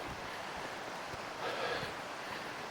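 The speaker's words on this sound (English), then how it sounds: "You can hear the creek to my left here" A small mountain creek in the Smoky Mountains flows steadily as a broad, even wash of water noise with a slight surge partway through, close by and with no talking.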